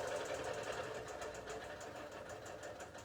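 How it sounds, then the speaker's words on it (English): A sewing machine needle stitches steadily through a quilt top, a continuous, even mechanical whir with fast repeated ticks throughout, close and clear with no talk. "That's your needle moving right there, and it is exactly what is happening on the quilt top right now."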